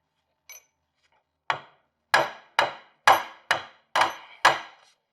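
A hammer taps on a U-joint on the front Dana 60 axle of a Ford F250. Seven sharp metallic strikes sound close and alone, the first light and the rest in a steady, even rhythm.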